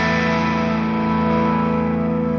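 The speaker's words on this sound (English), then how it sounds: "I'm in sparkling OD or overdrive." An electric guitar played through a Hotone Sparkling OD overdrive pedal rings out as a loud, sustained, distorted chord, holding steady throughout with no talking.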